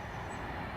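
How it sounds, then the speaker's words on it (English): A train rumbles past as a steady, broad, low roar, moderately loud throughout with no voices. "If you can hear me over the sound of the train what's coming by in a minute."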